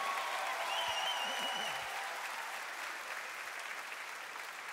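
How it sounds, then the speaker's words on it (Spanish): A concert audience claps to welcome the choir onstage, sustained applause that is strongest at the start and gradually thins, with a brief low voice partway through. "Por favor, un fuerte aplauso para recibirlos."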